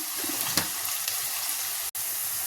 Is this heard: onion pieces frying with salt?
yes